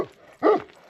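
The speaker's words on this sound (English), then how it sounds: "Those are some big dogs." A single short bark from a big dog, close and moderately loud, with a faint whine before it.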